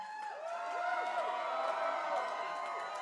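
A concert crowd at a sold-out show at Gramercy Theatre cheers and roars in a steady, dense wash, with whoops rising out of the mass of voices.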